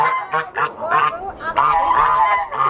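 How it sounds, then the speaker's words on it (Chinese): Geese honk repeatedly while being fed outdoors, loud, close and in quick rhythmic bursts that overlap one another with no pause. "这鹅回来了，在喂鹅哎"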